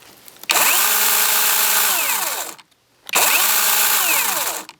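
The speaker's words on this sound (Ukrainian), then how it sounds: "Як ви помітили, пила має плавний пуск." A REVOLT cordless chainsaw with a 40 cm bar and soft start runs up loud and close for about two seconds, winds down, pauses briefly, then revs again at a steady high whine.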